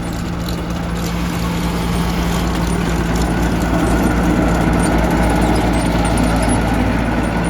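A new XCMG GR2205 17-ton motor grader runs on its first job, grading a layer of selected soil material. Its diesel engine gives a steady, continuous low drone with no rises or pauses, and nobody speaks.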